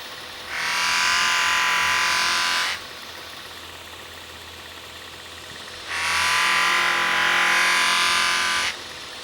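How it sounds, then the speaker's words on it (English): Buffing wheel polishing the pin of a hidden tang knife handle, producing two sustained, loud, hissing grinds of about two to three seconds each, separated by a quieter motor hum, with no talking. "So now we're just going to take it over to the buffing wheel and buff the heck out of"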